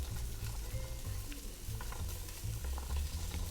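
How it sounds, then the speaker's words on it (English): Chopped garlic stir-fried with chestnuts in oil in a pot for Hokkien zongzi filling, a steady low sizzle with scraping stir strokes throughout, close and moderately quiet. "Then add in your chopped garlic and stir fry for 1 minute."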